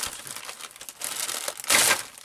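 Cardboard box packaging being cut open, a run of close crinkling and scraping with a louder tearing burst near the end, no talk.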